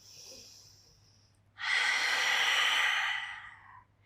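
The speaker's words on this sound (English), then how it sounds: "just breathe in and breathe out" A deep breath during a gentle exercise routine: a short faint inhale, then a long, loud, breathy exhale lasting over two seconds, close and alone.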